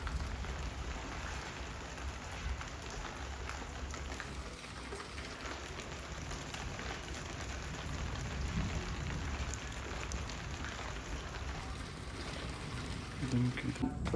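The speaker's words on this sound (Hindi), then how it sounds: "अब तो गाइस अब शुरू हो चुकी है तेज़ बूंदाबांदी" Heavy drizzle falls outdoors in hot weather, a steady dense patter of raindrops hissing across surfaces for the whole stretch, moderately loud and constant.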